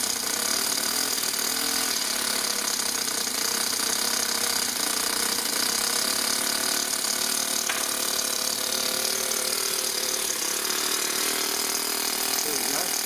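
An engine runs at a raised idle, a loud, continuous mechanical clatter and rattle with a steady dense texture throughout, close to the listener.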